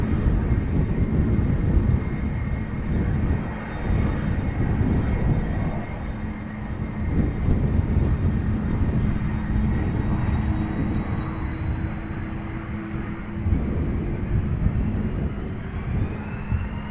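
A KLM jet departing Amsterdam Schiphol bound for Sint Maarten gives a steady, loud roar that holds throughout, with low rumble and some wind buffeting the microphone, and no talking.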